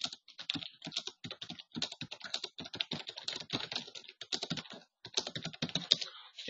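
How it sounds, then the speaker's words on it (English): Rapid, steady typing on a computer keyboard while entering data into an Excel spreadsheet, a close, dense clatter of keystrokes with only a brief pause near the end. "anytime I type any data in here"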